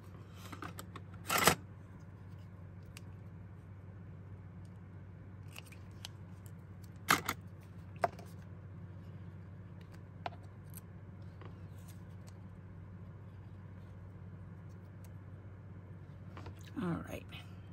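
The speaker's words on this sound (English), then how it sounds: "so I'm going to have to cut those apart" Scissors snipping apart two paper pieces stuck together while making a fall flower card, a few sharp, close cuts spread out over a quiet background hum.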